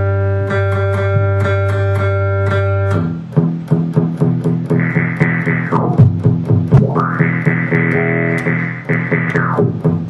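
Electric guitar run through an Eventide PitchFactor harmonizer in octaver mode with only pitch A engaged: a sustained processed chord, then picked notes with a gliding shifted octave tone swelling in and out, effect-heavy and clear.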